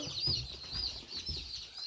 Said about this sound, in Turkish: Yüzde doksan civcivi çıktı Ayşe teyzemizin ve yanaştırıyoruz şöyle.